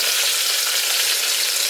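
Chopped onion sizzles loudly in a hot pan for a Malayalam kohlrabi and potato dish, a dense, steady frying hiss heard up close with no talking.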